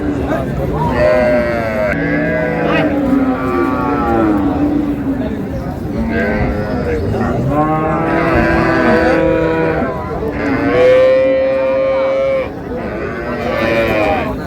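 Cows and calves low again and again at a busy village cattle market, Raniganj haat, their long, drawn-out calls loud and overlapping under a steady babble of people bargaining nearby.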